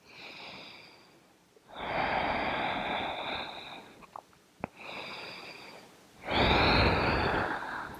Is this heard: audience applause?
no